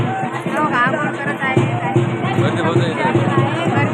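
Dense crowd of pilgrims gathered at a river during the Asra Devi temple yatra at Donad, a loud, continuous babble of many overlapping voices close by.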